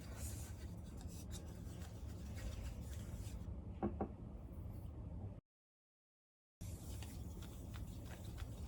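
Lacquerware polished by hand with polishing powder spread across the palm: soft, continuous rubbing and rasping strokes, faint and close, broken by a brief silent gap before the rubbing resumes.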